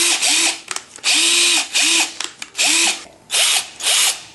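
A power drill with a rover wheel locked onto its chuck runs in repeated bursts, its whine rising as it spins up and dropping away as it stops, about six close, loud pulses with brief gaps between them.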